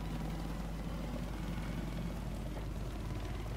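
A helicopter in Battlefield 4, a steady low rotor and engine drone that stays even and continuous throughout with no breaks or voices.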